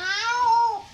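A person imitates a cat's meow in a single drawn-out, wavering cry lasting about a second, with no other talk.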